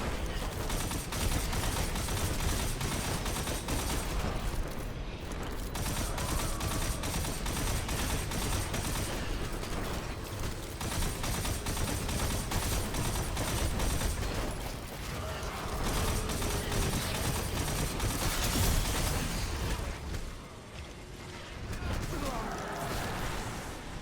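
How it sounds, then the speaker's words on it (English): Crimson hand cannon fired in Destiny 2 inside the Crucible, sounding as dense, continuous bursts of gunfire and mechanical clatter filling the whole stretch at steady loudness, with a voice talking over it throughout. "Up next, the Crimson. This hand cannon is certainly more suited in the Crucible"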